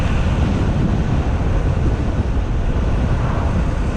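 Strong crosswind buffets a coastal road by the sea near Marseille, a loud, steady low roar of gusting air on the microphone with no pauses.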